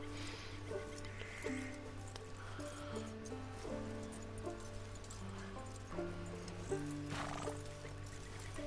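A horse in Red Dead Redemption 2 whinnies and snorts over steady clip-clopping hooves, with a constant low game hum and sustained music tones underneath.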